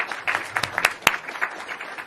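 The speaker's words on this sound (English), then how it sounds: "One last round of applause for our panelists, please." Scattered audience applause for the panelists at the close of a live panel discussion on the Canadian economy: a moderate patter of claps with a few sharper, louder hand strikes.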